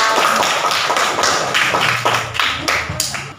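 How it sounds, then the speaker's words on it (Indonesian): A classroom of students claps for a classmate, a burst of rhythmic, close, fairly loud hand claps with sharp taps running through the whole moment. "Iya, tepuk tangan, Faisal"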